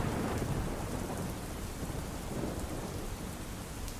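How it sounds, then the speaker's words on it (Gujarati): Heavy downpour in Junagadh city pours steadily and loudly, with thunder rumbling through the continuous hiss of rain, and no voices. "જૂનાગઢ શહેરમાં છેલ્લા 2 કલાકથી ધોધમાર વરસાદ વરસી રહ્યો છે"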